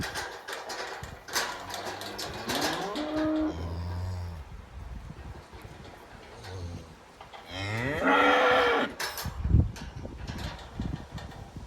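Cattle in a small corral moo several times, long, drawn-out calls at moderate distance, with some shuffling and knocking noises in between.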